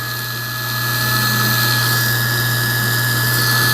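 A Ryobi handheld power carver runs steadily with a loud, high-pitched motor whine and a strong constant hum, ramping up briefly at the start before holding an even drone, with no voices.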